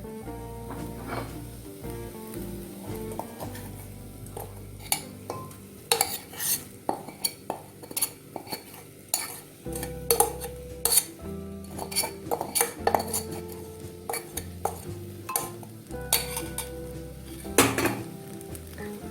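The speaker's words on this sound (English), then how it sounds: "It's just lightly tossed around in the ghee, and now I will add the prawns." Prawns are tossed in ghee in a pan, with intermittent clinks and scrapes of a spatula against metal over a faint background hum, the strikes irregular and fairly close, with no talk.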